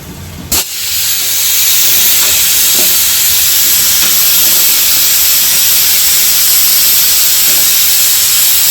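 Onions fry in hot oil, beginning with a sharp sizzle burst as they hit the pan, then settling into a loud, steady, continuous hiss.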